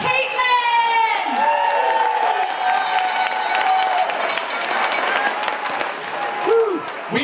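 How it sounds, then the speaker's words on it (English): A live audience at a local community event breaks into loud, sustained applause with cheering, whoops and children's shouts, the sound dense and steady for several seconds with tonal music or whistles threading through it. "let's give one more round of applause for Will and Caitlin"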